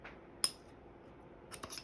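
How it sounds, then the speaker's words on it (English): Scissors snip vinyl transfer paper, with one sharp cut followed after a pause by a quick pair of snips, quiet and close. "I'm going to cut the paper because there's a curve"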